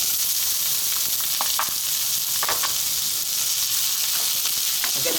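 Onion drops into a hot pan for a Filipino chicken vegetable stir fry and sizzles loudly and steadily throughout, a dense close-up hiss with no talking.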